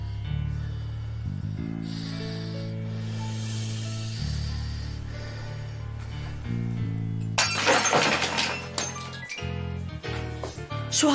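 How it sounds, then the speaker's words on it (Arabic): A drinking glass shatters with a sharp crash and a burst of tinkling shards, heard over a steady low drone. Scattered clinks and rattles follow as the pieces settle. "كاسة وانكسرت"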